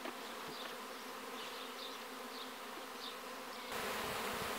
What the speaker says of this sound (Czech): včely z nového roje teď hledají místo, nějakou dutinu, kde by se usídlili